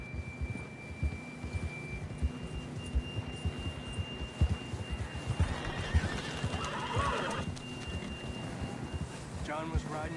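Hooves clip-clop steadily while a horse neighs, with wind and faint ambient tones in the background of a Red Dead Redemption 2 game scene.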